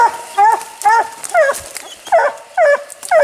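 A coonhound bays at a raccoon treed in rough woods, giving loud, close, repeated drawn-out bawling howls in an uneven rhythm with short pauses between them.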